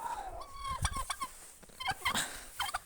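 Chickens and a big rooster in a backyard flock, giving repeated squawks and clucking calls in short bursts, close and fairly loud with no talk.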